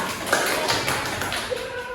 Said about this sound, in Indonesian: Kasih tepuk tangan buat Siwa.